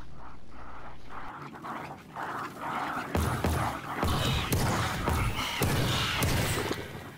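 Zombie dog rounds in Call of Duty Black Ops Cold War on the Die Maschine map: a dense, continuous din of game noise with repeated thuds, crashes and snarling bursts that grows louder partway through.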